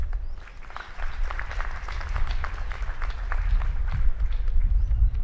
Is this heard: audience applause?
yes